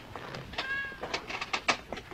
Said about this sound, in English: Please keep the cat.